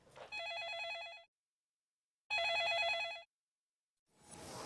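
An old-style telephone bell rings in two loud, trilling bursts about a second each, separated by a silent gap, in a quiet room, followed by a soft rustle.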